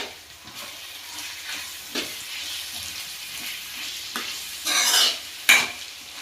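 Spices being stirred into vegetable fried rice in a pan: a continuous low sizzle under repeated scraping and tapping of a spatula, with a couple of louder clatters near the end.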